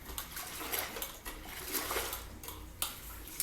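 A mop dunks into a bucket of cleaning water with sloshing and splashing, a few uneven swishes and splatters heard close and fairly quiet.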